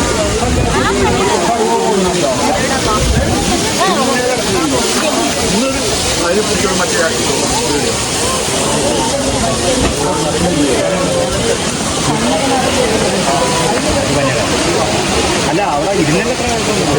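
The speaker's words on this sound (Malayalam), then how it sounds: "ഇതാണ് വാട്ടർഫാൾ." Steady roaring rush of a waterfall in Munnar fills the whole stretch, loud and close, with people talking over it.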